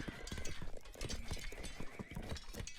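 Horses galloping across a frozen-lake battlefield in the strategy game 0 A.D., with busy hoof clatter and repeated neighs and whinnies over a dense, continuous din of fighting.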